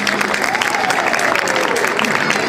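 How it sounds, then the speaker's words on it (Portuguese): Applause from an audience at a cosplay expo, a loud, dense burst of many people clapping together, with some crowd voices and a sustained tone underneath. "Uma salva de palmas."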